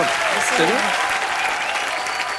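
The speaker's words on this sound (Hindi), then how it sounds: "आइए फिर जोरदार तालियां एक बार" Studio audience applause on a comedy talk show, dense continuous clapping with a brief voice and tonal sound near the start, steady throughout the short stretch.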